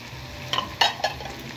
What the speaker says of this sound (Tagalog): Pwede na natin ilagay ang sibuyas.